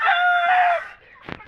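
A gamefowl rooster gives one loud, close crow that holds for under a second, followed by a couple of short clucks on a farm.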